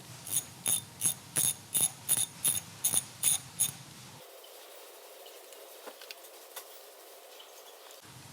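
A ratchet tool backs screws out of the ignition coil on a propane engine: about nine quick, close ratcheting bursts in an even rhythm, followed by near silence with faint handling noises.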